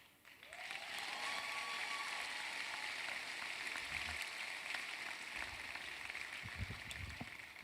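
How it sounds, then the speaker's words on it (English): Steady, dense applause from a ceremony audience at a Barbados leadership badge event, sustained and fairly loud throughout with no voices over it. "You liked the clapping just now when you came up, correct?"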